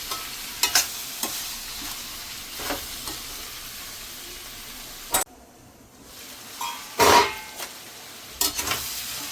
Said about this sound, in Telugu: ఉల్లిపాయలు వేగిన తర్వాత బోటీని వేసుకొని బాగా కలుపుకోవాలి.